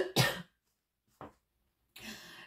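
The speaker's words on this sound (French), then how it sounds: "Je sais que c'est pas cool de m'entendre tousser" Coughing from someone speaking French: one hard, close cough, a brief smaller cough about a second later, then a longer rough burst near the end, with silence in between.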